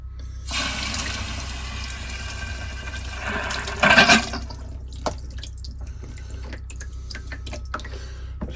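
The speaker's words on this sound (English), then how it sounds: "There it goes. Starting to leak again." Leaking household plumbing with the tap turned on, a steady wash of running water and hiss, swelling into a louder splashing burst midway, then scattered drips and faint trickles afterward.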